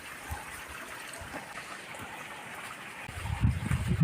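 Water from a hill flows over rocks in a steady, fairly faint rushing wash, with a low rumble swelling near the end.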